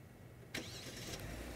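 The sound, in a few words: Kia K9 car engine starting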